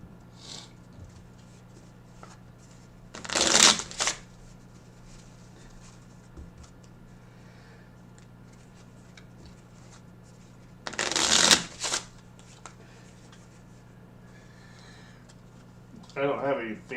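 Two short bursts of a deck of playing cards being hand shuffled, with quiet gaps between them and a faint third riffle starting at the very end, heard during a blackjack session.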